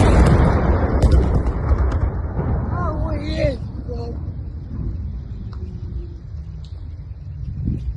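Missile strike hitting an ordinary residential building in Kyiv, a loud heavy rumbling blast that fades into a long low roar, with brief shouting voices and distant background noise after the impact.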